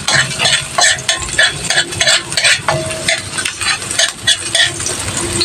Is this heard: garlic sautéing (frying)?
yes